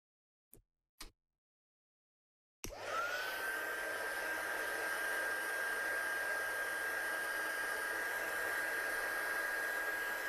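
Two brief clicks are followed by a handheld dryer starting up and blowing steadily and loudly over a stamped handmade card, a constant close whoosh with a high whine.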